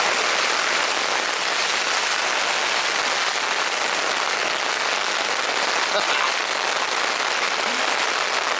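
Heavy rain pounding on a backcountry camping tent during a storm in Algonquin's interior, a dense, constant hiss of drops drumming on the fabric, loud and close, with no talking.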